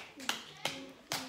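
Three sharp bursts of hand clapping, each short and bright, spaced about every 0.4 seconds, with a voice and an adult voice talking softly between them in a classroom-style morning routine.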